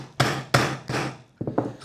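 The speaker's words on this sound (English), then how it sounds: "I'm going to take my hammer and I'm just going to hit this on top, and that's going to help me get the chain pin out." A hammer strikes a punch to drive a pin out of a Rexnord MatTop or TableTop conveyor chain, with three sharp, loud metallic blows followed by a quicker pair of lighter taps, close up with no talk.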